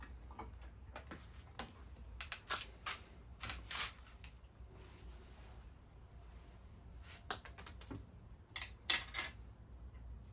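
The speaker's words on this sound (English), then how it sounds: "that horrifying sound you just heard was me dropping one of the screws" A sharp small metallic clatter near the end, a screw dropping and bouncing while working on an Indian motorcycle radio, after scattered light ticking and handling noises.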